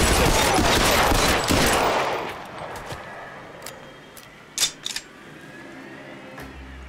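Dense burst of gunfire in the VR video game L.A. Noire, loud rapid shots for about two seconds that fade into quieter scattered cracks and clicks.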